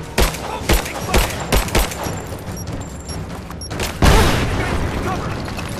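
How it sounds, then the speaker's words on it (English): Gunfire in Rise of the Tomb Raider: several sharp, loud shots in quick succession, followed by a heavier burst, with shouted combat voices around it. "Opening fire!"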